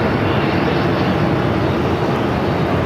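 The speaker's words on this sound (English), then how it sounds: "This is an Airbus A350." Loud, dense jet roar from an Airbus A350 airliner at Phoenix airport, a brief steady burst of broadband engine noise close by.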